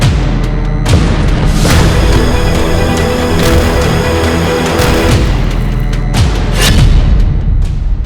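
Powerful booming blasts from a Houthi attack on Israel, several heavy explosions in succession with dense rumbling roar filling the stretch between them, loud and continuous throughout.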